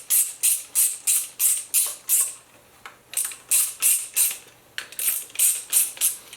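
Rhythmic ratcheting of a wrench drawing down 3/8 bolts on an aluminum harmonic balancer fitted tight to an aluminum mandrel, close and fairly loud, a dozen quick bursts with a short pause in the middle, no talking.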